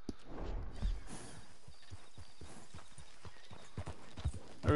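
Horse hooves clopping at a steady quick pace in Red Dead Redemption 2, a rapid run of close, distinct thuds with a low background bed, no talking.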